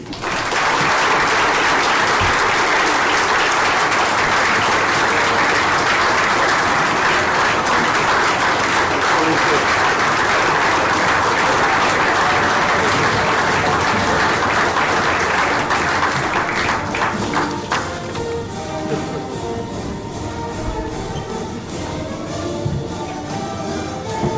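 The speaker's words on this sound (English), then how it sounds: "Thank you for that nice applause and that welcome." A large press-conference audience applauds loudly and steadily for about seventeen seconds as a new head baseball coach is welcomed, then the clapping thins out and fades into scattered claps and murmuring.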